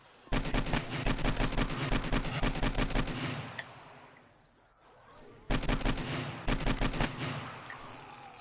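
An AK rifle in the 7 Days to Die video game fires long rapid automatic bursts, one lasting about three seconds, then a short pause and another burst, loud and close.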